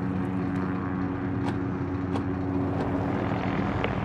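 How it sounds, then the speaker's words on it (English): Helicopters approach in the Call of Duty Modern Warfare 2019 campaign, a low steady rotor drone with faint sharp clicks and blips layered over it, moderately quiet and without voices. "Barkov is sending in helicopters."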